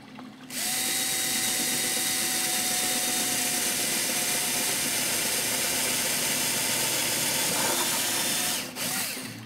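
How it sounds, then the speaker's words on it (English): A power drill bores holes through the fiberglass hull of a boat under construction, a steady loud whine running for about eight seconds before stopping, with a faint brief ratcheting at the end. "Get your holes drilled."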